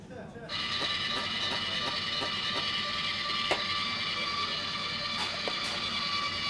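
A meat mincer grinding rump, neck and shoulder for burgers runs with a steady mechanical whirr and faint rhythmic ticking, loud and constant throughout.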